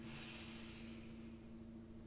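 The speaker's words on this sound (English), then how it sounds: "Breathing in." A slow, deep inhale through the nose during a diaphragmatic breathing exercise, a soft breathy rush heard close up against a quiet low hum, with no talking.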